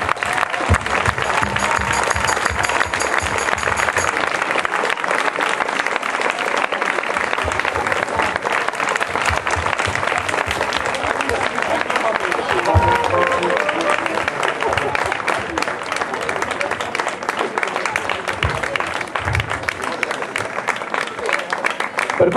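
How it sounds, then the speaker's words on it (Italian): Long, sustained applause from an outdoor audience at a symphony orchestra concert in a Bordighera garden, dense and steady clapping throughout with a few voices briefly audible. "Un grossissimo applauso al Deus Ex Machina di tutto questo, il dottor Luca Moreno."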